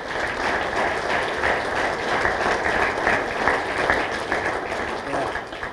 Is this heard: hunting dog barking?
no